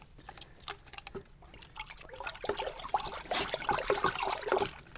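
A turquoise liquid vineyard-care preparation is poured into water for autumn grape treatment, a close, soft trickle that grows steadier and louder as the pour goes on.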